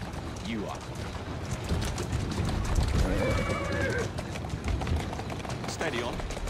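Galloping horse hooves clatter continuously in Assassin's Creed Syndicate, with one short whinny near the middle, close and steady in level.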